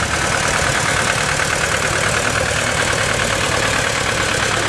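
An old Renault tractor idles at a vintage tractor parade, its steady low engine rumble and ticking knock continuing loudly and evenly throughout with no talk.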